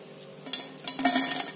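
Pitha fry in oil, a soft background sizzle broken by a few quick clinks and a short burst of louder crackling as the pieces move in the pan.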